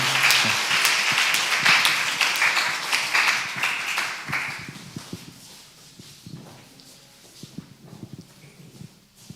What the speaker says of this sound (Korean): 우리 새가족분들에게 다시 한번 큰 박수 부탁드리겠습니다.